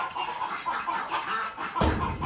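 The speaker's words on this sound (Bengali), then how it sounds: "এখন আসছি মুরগির ঘরে" Chickens in a village chicken coop in rural Saudi Arabia give faint, scattered clucks at close range, followed by a brief low thump near the end.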